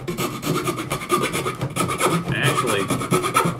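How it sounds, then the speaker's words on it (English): A wood file rasps across the end of a board in quick, rhythmic back-and-forth strokes, loud and close, with a short bit of speech partway through. "I'm just gonna file the end of this board with a wood file"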